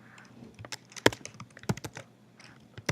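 Keystrokes on a computer keyboard, irregular bursts of clicks and taps in a quiet room with one louder thunk near the middle, no voices.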